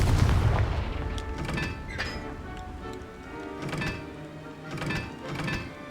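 In Hogwarts Legacy, a Confringo fire spell sets off booming blasts with heavy low rumble, followed by repeated thumping explosive hits and crackling bursts over a continuous game backdrop.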